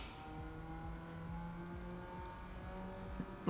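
Car engine revving in the racing video game Need for Speed Underground 2, repeated rising gear-shift sweeps in a rhythmic pattern, faint and steady, with a sharper burst at the very end.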